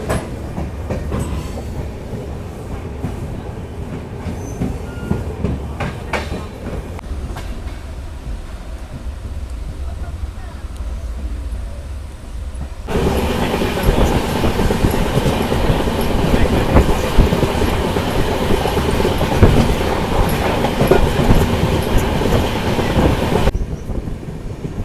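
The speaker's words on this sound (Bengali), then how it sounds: "আমাদের ট্রেন এখন ঢুকছে ঠাকুরগঞ্জ রেলওয়ে স্টেশন।" The Kanchankanya Express draws into Thakurganj railway station, heard from on board as a steady close rumble and clatter of wheels on rails that grows louder and harsher partway through before easing off.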